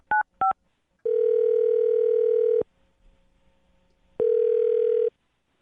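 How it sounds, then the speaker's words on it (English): Two quick touch-tone beeps from a telephone keypad are followed by two long, steady ringback tones separated by a pause, clear and close with no voices. "I'm going to dial her phone number right now"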